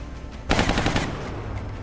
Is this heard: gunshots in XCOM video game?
yes